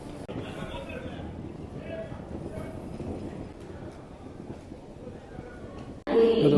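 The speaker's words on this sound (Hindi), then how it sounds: "बहुत दिन के बाद ये इंडियन रेलवे का जो प्रॉपर पॉपुलर साउंड है वो मेरे कानों में पड़ रहा है" Indian railway station ambience: a steady broadband rumble of trains and platform bustle with voices mixed in, ending in a sudden louder burst near the end.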